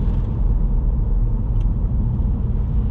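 Steady, full engine rumble and road noise from a car driving along a road on the Isle of Skye, heard from inside, continuous and fairly loud with no talk.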